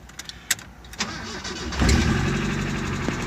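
A few clicks, then a Mazda Miata engine with about 275,000 miles, needing a rebuild, cranks and catches, settling into a steady close idle with a faint rhythmic ticking.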